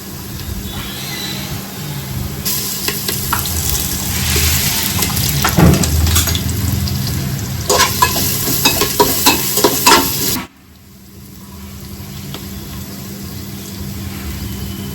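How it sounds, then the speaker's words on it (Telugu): Ginger garlic paste and curry leaves fry in hot oil for bagara rice, with a loud, close sizzle and crackle plus spoon scrapes and stirring clatter that cut off abruptly, leaving a quieter background hiss. "నెక్స్ట్ అయితే అల్లం వెల్లుల్లి పేస్ట్ కొంచెం."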